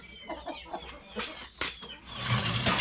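Chickens cluck and squawk around a farm in the morning, a few short, close calls scattered between quieter moments, growing busier toward the end.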